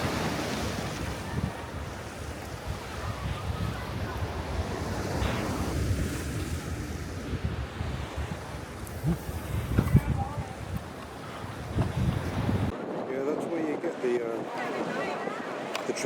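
Waves wash and slap around a moving boat off Benidorm, Spain, while wind buffets the microphone, a steady roar that drops to quieter water near the end.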